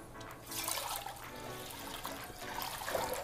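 Water is poured into a vessel while preparing a brine for sous vide lamb, a splashing, trickling stream that swells and fades, close by and heard alone.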